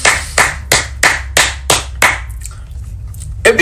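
Hands clap in a church to applaud the youth: about seven sharp, evenly spaced claps in a quick rhythm, then a brief pause and a few scattered softer claps.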